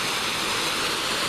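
Waterfall spilling below a dam, a steady broadband rushing roar heard from a viewpoint at moderate distance, continuous and without voices.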